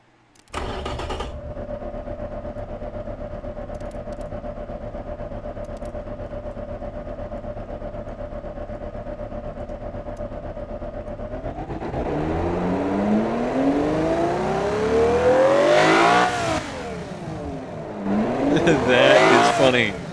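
A car engine in the game Automation idles steadily, then revs hard, pitch sweeping up and down repeatedly as it roars louder toward the end.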